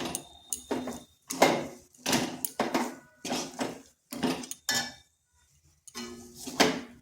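Radish, rice flour and gram flour being stirred together in a bowl, with a series of close, rhythmic scraping and clattering strokes broken by short pauses, and no talking.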